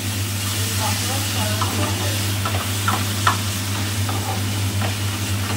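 Chicken manchurian is stirred in a frying pan, with a continuous close sizzle, scattered light spatula scrapes and clicks, and a low steady hum underneath.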